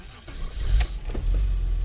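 A BMW E34 535i car starts up and settles into a low idle, a short burst of engine noise followed by a steady rumble nearby, with no speech.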